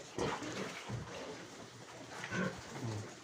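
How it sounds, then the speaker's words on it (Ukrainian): Pigs grunting and snorting close by, several short rough bursts in an irregular rhythm, moderately loud over a noisy background. "Хороші такі свинки. Граються."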